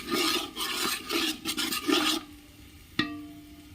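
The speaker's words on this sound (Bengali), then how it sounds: "এই যে আমাদের মশলা কষাচ্ছি" Masala spices stirred and sautéed in a pot for biryani, a close rhythmic rasping scrape of a spoon against the pot that fades into a quiet sizzle, ending with a single sharp knock.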